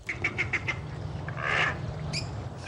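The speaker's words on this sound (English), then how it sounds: "The ducks spent the afternoon swimming in the pond, the one that wasn't iced over" Ducks at a partly iced-over zoo pond in Montgomery on a cold day, giving a run of five quick, evenly spaced quacks, then a louder drawn-out squawk and a few scattered calls over a steady low background rumble.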